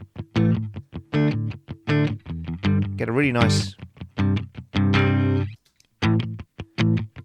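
A spoken voice runs through the FabFilter Saturn distortion plugin, its words coming out gritty and saturated in short clipped phrases.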